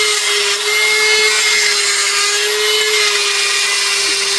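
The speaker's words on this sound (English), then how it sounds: "Now we're getting a die grinder out." A die grinder whines at a constant high pitch, loud and close, as it cleans up and gasket-matches intake ports on a turbo Dodge Dakota engine, running unbroken with no talk.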